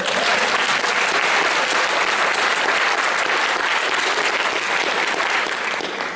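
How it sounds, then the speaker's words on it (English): A seminar audience at a 2014 Law of Attraction event breaks into dense, sustained applause that fills the room at a steady, loud level for several seconds before easing slightly at the end. "Let's give her a hand of applause."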